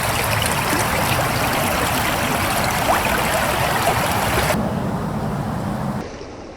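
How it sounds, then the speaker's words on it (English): Water from Killington Lake pours steadily along a canal feeder channel, a loud continuous rushing flow heard up close with no voices, dropping in level near the end. "That outflow is the canal feeder channel from Killington Lake."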